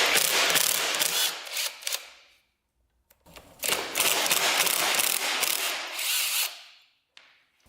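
A ratchet or power tool buzzes in two loud whirring bursts while loosening the old sprocket on a Honda 400ex motorcycle, with a short pause between and a brief click near the end.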